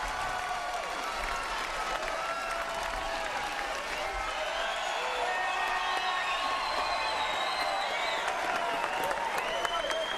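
A large crowd at a boxing match applauds steadily throughout, with cheers and a few whistles rising above the dense, continuous clapping.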